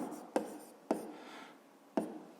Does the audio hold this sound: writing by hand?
yes